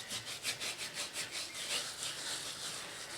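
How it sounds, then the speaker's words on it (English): Hands roughly rubbing seasoning into the scored skin of a pork belly, a close, steady back-and-forth scratchy rasp in a regular rhythm with no talking. "we just want to rub that really roughly just down into all of those grooves that we've made"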